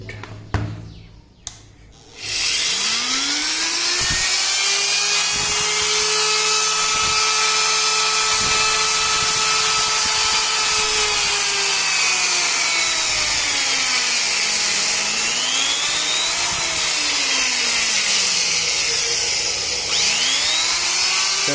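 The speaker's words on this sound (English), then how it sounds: "there is 500 watt drill machine. Now let's operate it." A 500-watt electric drill whirs steadily at high speed after a brief start, its pitch dipping and rising as it runs continuously and loudly.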